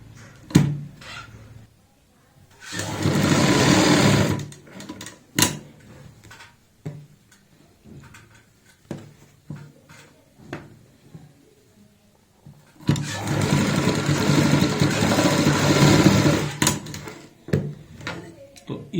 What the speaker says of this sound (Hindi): और अब हम सिलाई लगाएंगे इस कट तक और निशान तक।